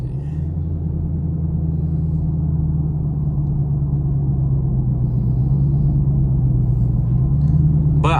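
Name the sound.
Chevrolet Camaro SS driving on the highway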